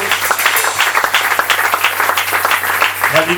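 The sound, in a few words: congregation applauding at pastor ordination service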